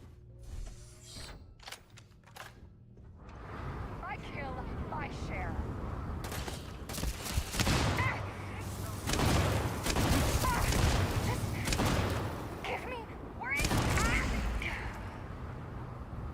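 Rapid bursts of gunfire from guns in Starfield on survival mode, repeated volleys of sharp mechanical shots with clicks and brief pauses, growing louder after a quieter start, with talk between some bursts.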